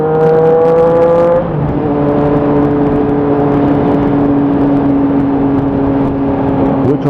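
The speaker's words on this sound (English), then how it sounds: "Oh, and I put a race fit exhaust on it, race fit end cam." A motorcycle fitted with an aftermarket race exhaust end can, its engine droning steadily in the foreground with a higher rev burst at the start that settles into a sustained lower tone.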